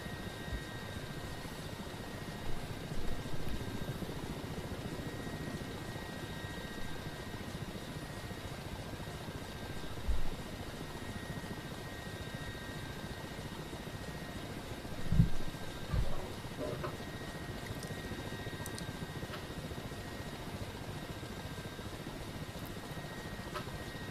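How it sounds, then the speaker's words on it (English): Mi-8 helicopter in the DCS flight simulator, a steady droning rotor and turbine hum heard from the cockpit, continuous and even, with a few faint bumps and clicks. "Even without autopilot, it's an extremely docile helicopter"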